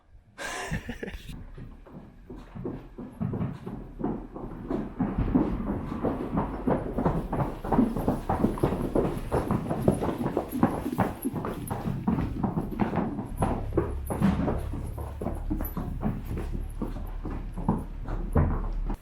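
Horse hooves clip-clop in a steady, repeated rhythm close by in the snow near a stable, with a low rumbling hum underneath.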